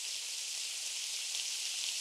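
A steak sizzles in a steak house cooking video game as a steady, bright hiss that continues evenly throughout, close and alone.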